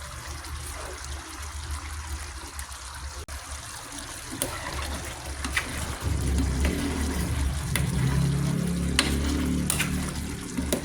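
Chicken adobo simmering and sizzling in a pan, a steady wet bubbling and frying hiss that thickens partway through, with occasional sharp clicks and taps.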